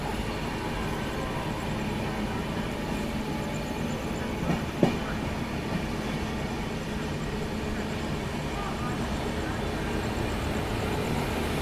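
Vikramshila Express train overtaking the Bundelkhand Express on a parallel track, a steady continuous rumble of moving rail cars with a brief sharp clank in the middle, close and loud throughout.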